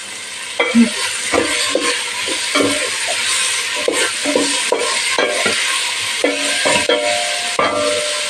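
Chopped onion frying in a pan for a pea stew, with repeated stirring scrapes and clatters over a steady close sizzle, no talking.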